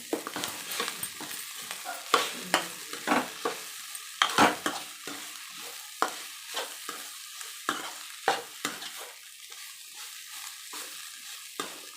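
Boiled potatoes stir-fried in a pan for potato poriyal, soft frying sizzle broken by repeated sharp scraping stirs of a spatula, close and fairly quiet.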